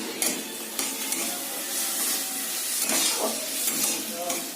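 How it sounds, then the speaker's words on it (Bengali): Butter frying in a pan over rising heat, a steady close sizzle with light scrapes and taps of a utensil stirring the contents. "বাটারটা দিলাম, আপনারা তেলও দিতে পারেন, দিয়ে এটা একটু ভেজে নেব"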